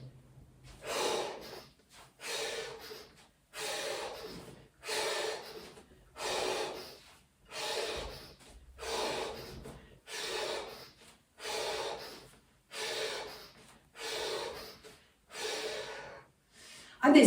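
Rhythmic forceful breathing in a breath of fire exercise, a single person's sharp nasal huffs arriving in about a dozen regular bursts roughly every one and a half seconds, close and clear with short quiet gaps between.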